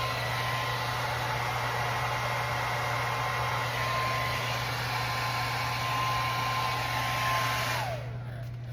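A handheld hair blow dryer runs continuously at close range, a loud steady whooshing roar with a constant motor hum and a faint whine, then cuts off abruptly near the end.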